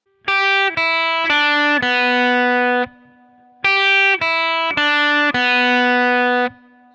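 A distorted electric guitar plays a short lick of four quick notes from a riff, pauses, then repeats it, loud and close with sustained crunchy tone.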